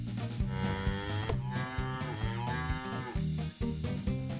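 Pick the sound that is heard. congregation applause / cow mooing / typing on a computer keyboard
cow mooing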